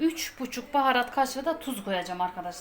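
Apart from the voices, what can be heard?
No distinct noise like a dog, phone or traffic.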